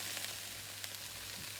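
Vegetables and frozen sweet corn frying in a pan for paella, a faint, even sizzle with small crackles, no voices.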